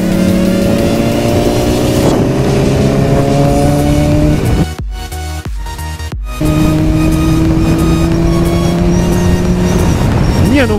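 A Kawasaki motorcycle engine drones loud and close while riding, its pitch climbing through gears, briefly dropping off and then rising again.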